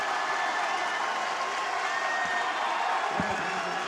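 Crowd noise at a Trinity vs. UT-Dallas NCAA men's basketball playoff game: a steady, dense roar of spectators on their feet cheering and clapping throughout, with a few thuds near the end.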